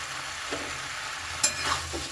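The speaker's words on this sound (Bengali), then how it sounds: "এর মধ্যে দিয়ে দিলাম ভেজে রাখা সমস্ত সবজিগুলো" Fried mixed vegetables for a Bengali chhenchra are stirred in a frying pan, with a faint steady sizzle and a few soft scraping strokes of the spatula, the loudest near the end.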